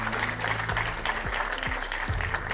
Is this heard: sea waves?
no